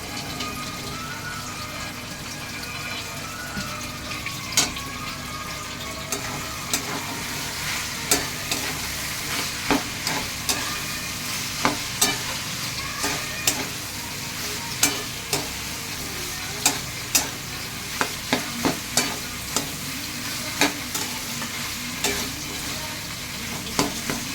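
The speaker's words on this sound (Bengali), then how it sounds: "এবার আমি এই মটরটা মশলায় দিয়ে দিচ্ছি।" Peas and spices for homemade chana masala sizzle and fry in a pan while a utensil stirs, with steady crackling and repeated sharp scraping clicks of the spoon against the pan, close and without voices.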